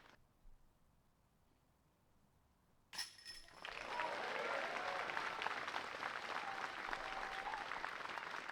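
Applause from a disc golf gallery at a world championship final breaks out suddenly after a quiet stretch as a putt drops, swelling into steady, dense clapping with scattered cheers that carries to the end.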